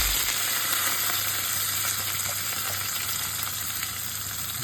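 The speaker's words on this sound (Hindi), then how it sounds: "तेल गर्म होने के बाद ही, पकने के बाद राई डालें। अब उसके लिए जो हमने तैयार किया है कड़ी पत्ता, प्याज और हरी मिर्ची की कतरन, ये हम अब इसमें डालेंगे।" Curry leaves, chopped onion and green chili hit hot oil with mustard seeds, giving a steady, loud, continuous sizzle and crackle with no voices.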